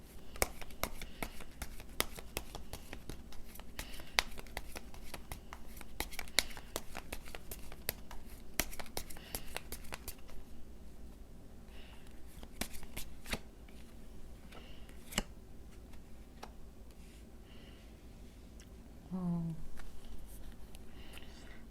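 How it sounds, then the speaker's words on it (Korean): Tarot cards shuffled and drawn by hand, a long run of crisp riffling flicks that thins into sparse slides and taps, close and soft with no talking. "우선 조언 카드를 2장만 더 뽑아볼게요"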